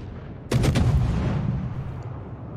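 A ship's cannon fires in a naval battle video game, opening with a sharp, loud boom and a few rapid follow-up reports that trail off into a long, rumbling decay.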